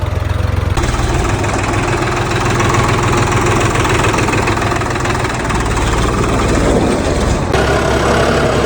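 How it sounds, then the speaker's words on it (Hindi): A John Deere 5405 4WD tractor labors while sowing soybean in a wet, muddy field, its heavy diesel engine knocking and droning loudly and steadily up close. "गीले में भाई स्पीड ना पकड़ पा रहा ट्रैक्टर"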